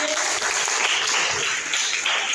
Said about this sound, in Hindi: तालियां उनके लिए।